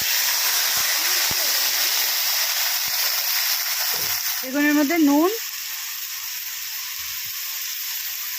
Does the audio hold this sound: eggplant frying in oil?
yes